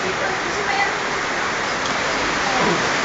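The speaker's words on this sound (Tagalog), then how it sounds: "Lakas ng ulan." Heavy rain pours down in a steady, loud roar that never lets up.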